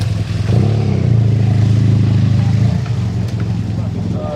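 A motorcycle on the A8 motorway idles and rumbles close by with a steady low engine drone, its pitch holding as it slows to pull over amid passing traffic.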